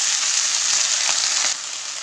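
Soaked lentils and chopped pepper elder greens hit a hot frying pan, giving a loud, steady hiss of sizzling oil that eases slightly near the end.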